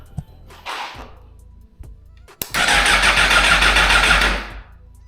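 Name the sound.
Suzuki GSX-R1000R motorcycle engine cranking but not firing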